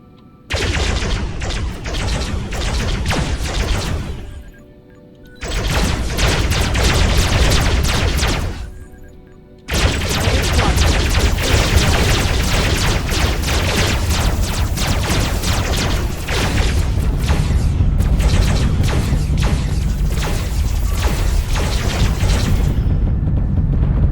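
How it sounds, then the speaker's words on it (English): Spaceship weapons open fire in the space combat game Starpoint Gemini Warlords, a loud dense barrage of rapid blasts and booms from an old battleship, broken by two brief lulls before the volley resumes. "All weapons fire at will."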